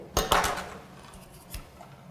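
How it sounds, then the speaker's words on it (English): Viva Decor concrete effect paste being stirred in its tub, with a few scraping clinks and dull knocks from the tool against the container, close and fairly quiet. "Okay, I'm just going to stir that."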